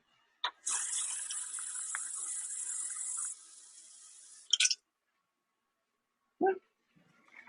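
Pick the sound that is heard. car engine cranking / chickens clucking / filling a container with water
filling a container with water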